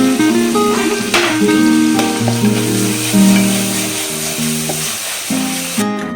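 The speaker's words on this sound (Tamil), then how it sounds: "வெங்காயம்லாம் நம்மளுக்கு நல்லா வதங்கி வந்துருச்சுங்க." Onions sauté in a hot pan for a chicken dish, giving a loud, steady sizzle and frying crackle with occasional stirring, heard close up and alone.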